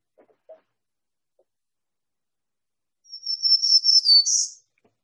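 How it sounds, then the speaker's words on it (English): Black-throated green warbler singing a single short, buzzy high-pitched song phrase, clear and fairly close, with a faint soft sound just before it and otherwise quiet. "This is a black-throated green warbler."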